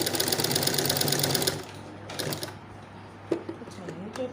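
A sewing machine runs steadily at close range while a placket is stitched, a dense continuous whirr for about a second and a half before it stops, followed by faint handling clicks and some quiet voice sounds.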